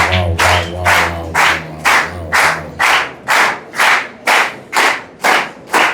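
An audience at a poetry book launch claps in unison in a steady rhythmic beat, about two claps per second, loud and close, while a cake is cut to mark the occasion. A low hum of voices fades out early.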